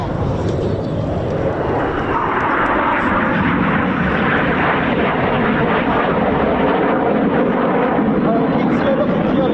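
Red Arrows jets roaring steadily overhead during an air display at RAF Coningsby, a loud continuous engine rumble throughout with a commentator talking over it.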